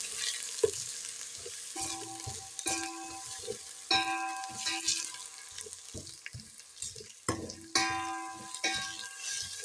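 Garlic and ginger with fenugreek seeds frying in hot oil as a spoon stirs them, giving a steady close sizzle broken by frequent scraping and clinking strokes against the pan.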